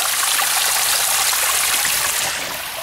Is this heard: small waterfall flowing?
yes